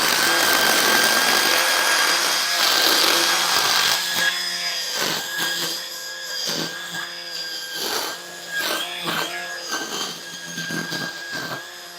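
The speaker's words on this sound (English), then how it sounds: "Just a very simple trim against a metal building and deck." A Ryobi 40V HP 16-inch string trimmer running on low, trimming along a metal building and deck: a loud, steady whine at first, then a choppier buzz with repeated short surges as the line hits the edges.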